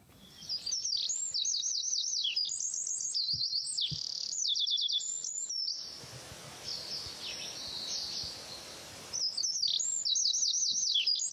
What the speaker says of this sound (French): ou le pinson, réponse B? Le pinson. C'est la bonne réponse.